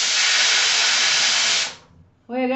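A stovetop pressure cooker whistle blasts a strong, steady jet of hissing steam for under two seconds, then cuts off abruptly, followed by a brief moment of quiet before a voice begins.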